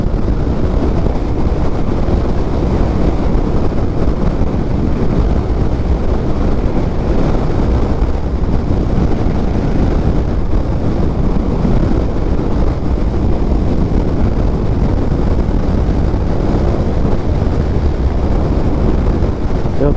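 Strong, constant wind roar buffets the microphone while riding a 2024 Yamaha XMAX 250 scooter at speed, a loud, dense rumble that continues unbroken with no pauses.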